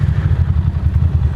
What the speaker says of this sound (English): I just did a skid on my tire